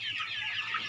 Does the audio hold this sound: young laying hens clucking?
yes